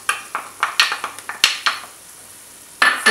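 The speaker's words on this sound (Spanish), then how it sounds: "se remueve para que la ñora suelte el color y se sofría un poquito" Onion, pepper and ñoras sofrito stirred in a pan, a run of sharp scraping and clacking utensil strokes close up over faint frying, a brief pause, then more stirring.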